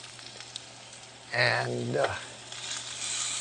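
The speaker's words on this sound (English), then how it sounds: "it's sizzling away" Frozen ribeye steak sizzling in an air fryer, a soft crackling hiss under a brief burst of nearby clatter and a short spoken word.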